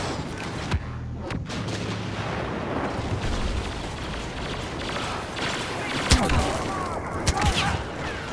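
Heavy turbolaser blasts boom across a Star Wars Battlefront Supremacy battle on the Sorosuub Centroplex map, forming a dense, continuous rumble of explosions and gunfire with a few sharper, louder impacts toward the end.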